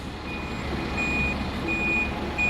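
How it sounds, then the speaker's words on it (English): A bus in Gloucester sounds its reversing warning: a steady series of high electronic beeps repeats about every half second over the low rumble of the idling diesel engine. "Now the reverse has been activated, the doors have been shut. We should get a warning alarm now."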